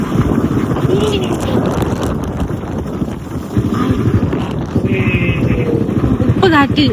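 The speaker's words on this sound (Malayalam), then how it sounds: "ഉപ്പ് കാറ്റടിക്കുന്നു." Strong sea wind buffets the microphone in a continuous loud rumble near the coast, with a faint engine-like drone and occasional voices underneath.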